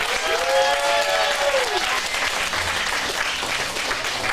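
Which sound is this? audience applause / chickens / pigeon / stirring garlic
audience applause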